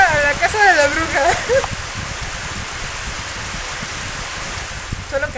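Steady rain pours in the dark video game Candle, a dense hiss holding through the scene while a voice speaks over it at first before the rain carries on alone.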